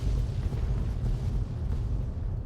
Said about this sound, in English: I think that's gonna explode for a while.